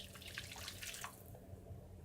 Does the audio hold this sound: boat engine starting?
no